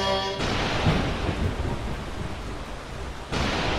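A thunderstorm rain cloud in the Roblox video game sets off a sudden heavy downpour, a loud, dense rush of rain with a deep rumbling undertone that holds steady for about three seconds.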